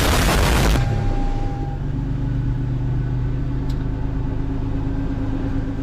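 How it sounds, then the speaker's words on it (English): A turbocharged Toyota Tacoma truck engine, put in neutral, cranks with a loud, harsh burst for under a second, then settles into a steady, rumbling idle. "Make sure this thing's in neutral, and I'll start it up."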